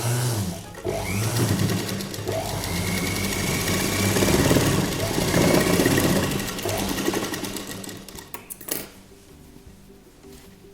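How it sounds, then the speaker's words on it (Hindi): A sewing machine runs a steady stitching seam, a dense whirring rattle that holds for about eight seconds close by before cutting off, with a few lighter clicks after it stops. "अब हम यहाँ पर भी एक सिलाई लगा लेंगे।"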